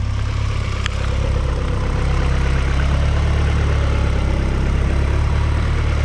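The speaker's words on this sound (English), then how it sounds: "Let this thing idle here for a quick minute." A Honda Integra GSR engine idles steadily nearby with a constant low rumble and an even mechanical hum, with no talking.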